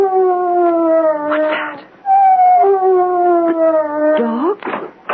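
A dog howls in a radio drama, long wavering howls rising and falling across the clip with brief whimpering breaks, close and loud, with a voice speaking briefly.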